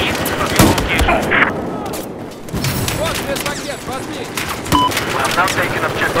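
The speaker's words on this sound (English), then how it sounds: "I have eyes on the machine gun at east of your location." Machine gun fire in the Battlefield 4 shooter, with sustained rapid bursts and scattered booms in a loud, busy battle mix, voices talking over the gunfire throughout.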